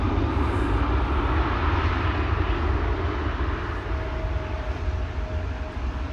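A DHL cargo aircraft at Amsterdam Schiphol Airport gives a steady, loud engine roar that holds evenly throughout, with no talk over it.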